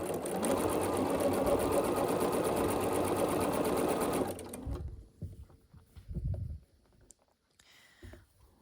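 A sewing machine chain-pieces quilt block petals in a fast, steady run of stitching for about four seconds, then stops, leaving a few soft handling clicks and thumps.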